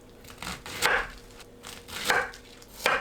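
A knife halves Brussels sprouts on a cutting board, a few crisp, crunchy cuts spaced about a second apart, close and clear with no talking.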